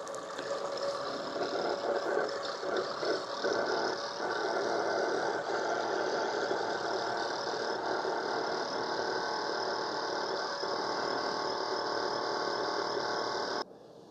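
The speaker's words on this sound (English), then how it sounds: "this pump kind of just sucks this thing dry to kind of clean out the lines." The internal pump of a Hamilton Beach FlexBrew Trio coffee maker drawing the lines dry, a continuous close-up mechanical hum with a buzzing rattle that runs steadily and cuts off abruptly near the end.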